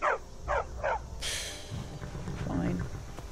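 A dog in the game Skyrim gives three quick, evenly spaced barks, followed by a burst of noise and low growly rumbling.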